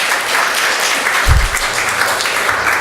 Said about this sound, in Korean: 이거는 박수 쳐야 되는데